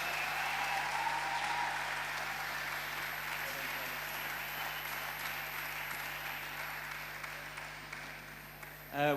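Sustained applause from an audience at an anniversary gathering as performers leave the stage, a dense clapping wash that slowly tapers off with some voices under it and a louder burst at the very end.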